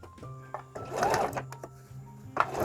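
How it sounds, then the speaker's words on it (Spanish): A home sewing machine stitches a cloth face mask with ties in short runs, its motor humming steadily with brief stops and clicks between bursts of sewing, close up and fairly loud. "Y vamos a coser"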